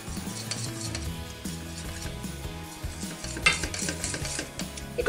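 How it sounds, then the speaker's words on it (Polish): Steady scraping and clinking of a utensil briskly stirring an egg mixture in a pan as it cooks into a thick pudding, with a continuous sizzle underneath and occasional louder knocks against the rim. "Wlewamy do niego naszą masę jajeczną i mieszamy energicznie."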